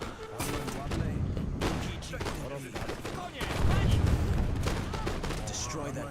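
Repeated booming cannon fire from an Age of Empires 3 battle, several heavy blasts and crackling volleys overlapping in a dense, loud barrage, with a voice talking over parts of it.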